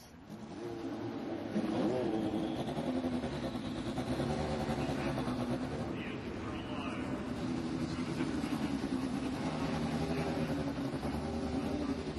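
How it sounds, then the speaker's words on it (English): Mazda-powered Indy Lights race car engines at the 2015 Long Beach street race, starting and revving together into a dense, sustained roar with rising and falling pitch, loud and continuous under faint crowd and announcer noise. "drivers, start your Mazda engines"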